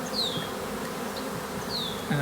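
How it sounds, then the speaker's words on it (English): A honey bee swarm buzzes around a swarm box outdoors, a steady low insect drone with a few nearer bees zipping past, continuous for the whole stretch with no talk. "It actually swarmed back out of the box."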